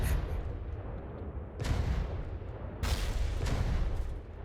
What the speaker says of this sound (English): You have to just shoot them with big cannons for long enough.